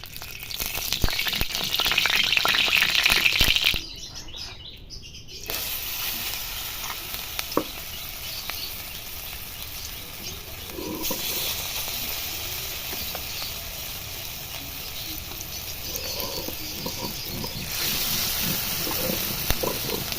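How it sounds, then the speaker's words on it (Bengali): Mung dal and taro leaf fritters fry in hot oil in a kadai, a continuous sizzling hiss that briefly cuts out, then resumes with spitting crackles and occasional knocks. "দেখুন আমার বড়াগুলো কেমন লাল লাল করে ভাজা হয়ে গেছে"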